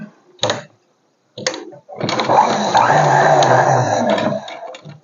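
A sewing machine stitches piping onto a blouse neck: two short bursts of whirring, then a longer steady run of stitching that fades out at the end.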